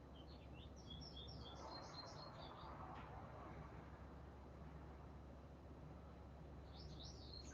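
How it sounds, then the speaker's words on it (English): An American goldfinch sings outdoors in short, bright twittering bursts, once near the start and again near the end, fairly faint against a steady low background hum. "So the bird you're hearing now is no longer a house wren. It is an American goldfinch."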